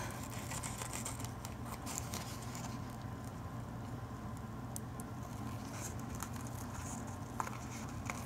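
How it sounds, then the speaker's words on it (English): Paper snips trim the edges of a rubber-stamped paper piece: quiet, irregular little snipping clicks and rustles of paper against a faint steady background hum. "I'm just going to take a pair of paper snips and trim my edges all the way around"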